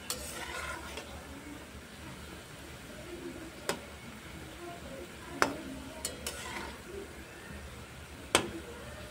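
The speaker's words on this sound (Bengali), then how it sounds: "বিস্কিটগুলো কিন্তু সুন্দরভাবে ভেজে নিয়েছি, একটু লাল লাল হয়ে গেছে।" Flour-and-sugar biscuits fry in a pan over a medium gas flame, giving a low steady sizzle with a few sharp clicks and taps of a utensil against the pan, with no talk.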